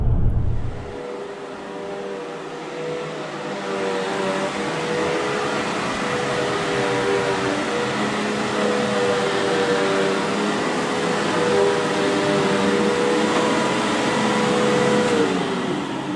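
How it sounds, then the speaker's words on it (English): A new vacuum cleaner starts up and runs with a steady, loud, continuous whine and hum that holds nearly unchanged throughout, with no talk. "What do you think about this new vacuum cleaner?"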